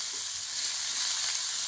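Garlic, chilli and coriander paste fries with spices in a pan for a paneer coriander gravy, giving a steady, close, bright sizzling hiss with no talking.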